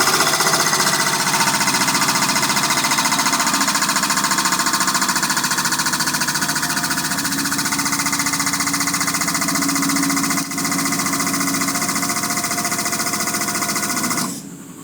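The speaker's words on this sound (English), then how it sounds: "let's use that 75-ton press we got over there." A 75-ton hydraulic press flattening a metal engine-bay downbar for a 1966 GMC in a fabrication shop, giving a loud, steady mechanical drone with a hard buzz that holds for about fourteen seconds, briefly dips once, then cuts off.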